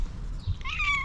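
Tabby cat giving a single short, close, clear meow that rises then falls, heard alone over faint low background rumble.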